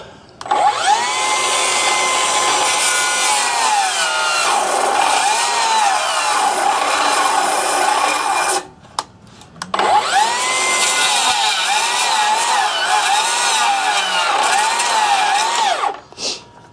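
A battery circular saw cutting a V notch in wood while losing power, heard as two long, loud, whining runs whose pitch wavers as the motor bogs under load, separated by a brief stop, with no voices.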